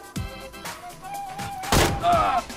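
Gunfire in the PUBG battle royale game comes as a handful of sharp, separate shots spread across the moment, with the loudest crack near the middle and faint game sounds between them.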